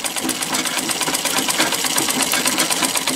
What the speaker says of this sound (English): I got to get it started with the flywheel. And then I just start my legs a-going.